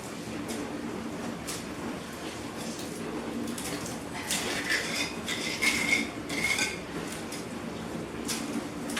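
A trowel scrapes and clinks while mixing lime plaster for a kitchen wall repair, giving steady gritty scraping with brighter metallic taps midway, close and moderately loud.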